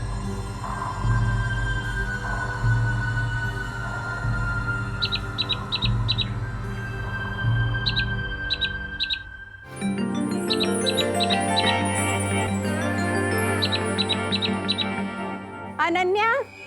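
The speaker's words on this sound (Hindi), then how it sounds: "ये कोई बला नहीं, ये तो कोई एग्जॉटिक सी बर्ड लग रही है मुझे।" An exotic bird squawks and calls in repeated bright bursts, loud and close, over a musical score and voices talking in a TV fantasy drama.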